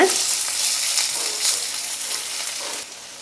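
Onions and chilies sizzle and crackle steadily in a hot pan, a bright continuous hiss with a few stirring scrapes, close and fairly loud, no talking.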